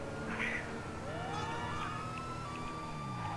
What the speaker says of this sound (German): Die Sirene klingt wieder instant scheiße.